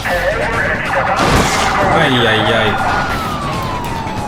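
A police car siren wails loudly in the BeamNG driving game, its rising and falling tone cycling over engine noise while someone talks.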